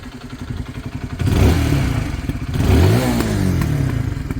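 A Honda CRF125R motorcycle engine cranks on the electric starter and catches, then revs up twice with a rising roar before settling into a rough, pulsing idle, close by.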